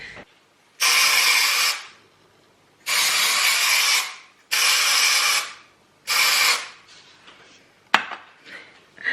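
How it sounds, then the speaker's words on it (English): Hissing aerosol dry shampoo spray in several sharp bursts of about a second each, separated by short pauses, close and fairly loud. "this is the best dry shampoo in the whole world"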